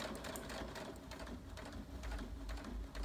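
A Brother Innovis 15 sewing machine stitches slowly through eight layers of denim with a normal straight stitch, a faint, steady rapid ticking close by with no voices.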